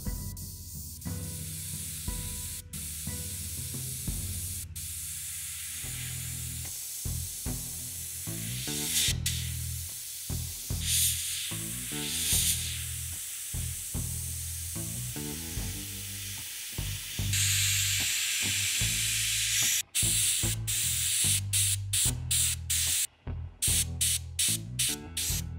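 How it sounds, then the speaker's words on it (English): Aerosol hairspray and Mr. Surfacer 1500 Black primer are sprayed onto a 1/48 Tamiya F4U-1D Corsair plastic scale model, in repeated close hissing bursts with short pauses and clicks between them. "I applied another layer of hairspray and then I went over everything with another layer of Mr. Surfacer 1500 Black."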